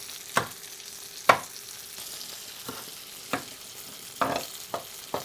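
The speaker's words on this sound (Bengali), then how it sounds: "মাছটা যে গ্রিল হচ্ছে একদম" Fish grilling over slow heat in a pan, a steady low sizzle broken by sharp crackles and spatters that pop up every second or so, close by with no talking.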